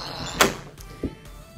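A front door opens with a sharp thump of the latch, then a softer knock about half a second later, fairly near and with no talking over it.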